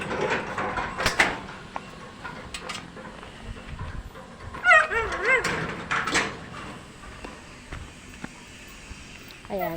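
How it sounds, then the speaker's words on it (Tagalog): Dog whimpering with short barks at a home while being taken outside, mixed with clatter and background noise, people talking intermittently throughout. "ito naman yung aming isang aso"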